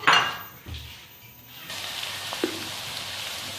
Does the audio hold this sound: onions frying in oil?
yes